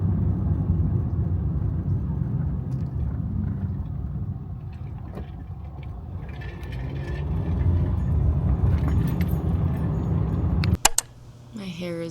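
A car drives along with a steady low road rumble and wind noise for most of the ride, cut by a sharp mechanical clunk near the end before things go quieter.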